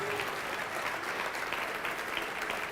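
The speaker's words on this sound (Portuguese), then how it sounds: "Vamos aplaudir mais ao nome de Jesus." A church congregation claps continuously at a worship service, a dense, steady roar of applause filling the room throughout the short stretch.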